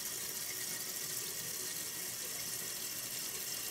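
Water rushes steadily into a toilet tank through a newly installed Fluidmaster universal fill valve, a constant broadband hiss of refilling that holds even and fairly loud throughout with no voices.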